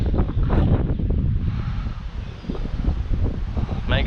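Wind blowing at a lake after rain, a loud gusty roar buffeting the microphone with rustling and a brief knock, rising and falling over several seconds.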